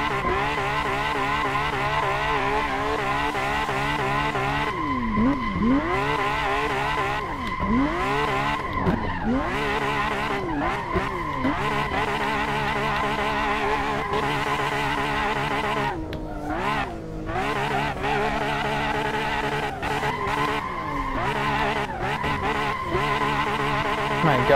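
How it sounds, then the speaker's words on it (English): A racing game car engine revs up and down through the gears, with dull thumps at each shift and tire squeal mixed in. "You can really hear the weird thump noise when this car shifts."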